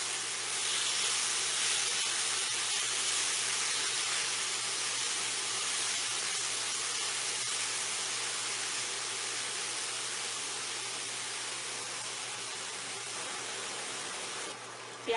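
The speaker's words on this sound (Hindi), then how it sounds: "मीडियम आंच पर प्याज को हमने सौते करना है।" Onions sautéing in a pan over medium heat, producing a soft, even steamy hiss that holds steady and close, fading slightly toward the end, with no talking.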